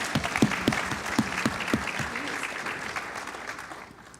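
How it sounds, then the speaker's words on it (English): Audience applause at a Hope Truck partnership showcase, beginning with several sharp, rhythmic nearby claps that blend into a steady wash of clapping from the crowd and taper off gradually. "I just want to give her a round of applause"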